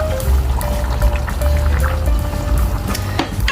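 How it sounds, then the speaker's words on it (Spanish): Roasted peppers and their juice are tipped into a pot for a meatball sauce, making a continuous wet pouring and sloshing sound with a few drips, loud and close, no voices. "ahora vamos a meter los pimientos asados con el juguito y con todo"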